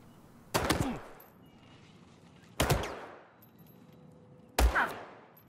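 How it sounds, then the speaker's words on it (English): Three gunshots fired from a pistol with a four-round magazine, evenly spaced about two seconds apart, each a loud crack followed by a decaying reverberant tail, alone without speech. "And again, he only fired 3 shots."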